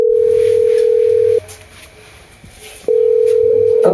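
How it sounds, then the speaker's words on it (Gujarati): A phone call rings out in a Gujarati comedy sketch as a long steady ringback tone, a short pause, then the tone again, clear and prominent with no speech. "હા હા રિંગ જાય"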